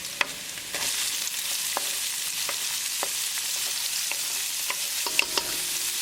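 Onion hits a hot pan for halibut curry and fries with a steady, hissing sizzle, close and fairly quiet, broken by light stirring clicks and scrapes of a utensil against the pan.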